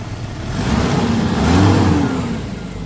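A mid-engined, rear-wheel-drive seven-seat van's engine revs up from idle and settles back as the throttle body is worked by hand, a close, loud, smooth engine swell with no talking.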